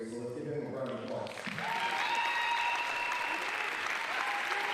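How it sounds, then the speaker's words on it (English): A crowd at a school signing day event breaks into sustained applause, a dense wash of clapping that rises and holds steady, with a voice speaking just before it begins. "So let's give him a round of applause."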